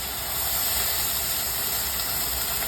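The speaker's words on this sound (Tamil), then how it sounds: "இப்போ நான் தண்ணி சேர்த்துக்கிறேன்." Loud, steady hissing sizzle as water is poured into a hot pan of rice for arisi upma, continuous and close throughout.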